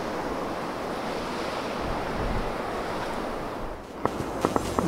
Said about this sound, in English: Look at how slowly these waves are breaking.